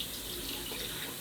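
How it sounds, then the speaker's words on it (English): A bathroom tap runs in a steady, hissing stream for hand washing. The flow is continuous and close, with no voices over it. "I'm gonna wash my hands really quick"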